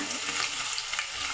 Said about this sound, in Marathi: आता मी पनीर टाकणार आहे. ते आता मी भाजून घेणार आहे.